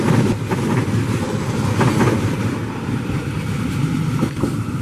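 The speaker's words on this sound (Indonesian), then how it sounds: "Tapi komuter lain Garut masuk stasiun Cibatu." A Garut commuter train pulls into Cibatu station, a loud close rumble with steady wheel and rail clatter and rushing noise throughout, and no voices.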